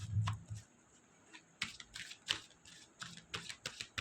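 A deck of tarot cards that tends to stick together is shuffled by hand, giving quiet, scattered bursts of papery clicks and flicks with short gaps between them.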